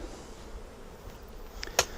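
Honey bees buzzing faintly around a Flow Hive Classic, a soft distant drone with one brief closer buzz passing near the end.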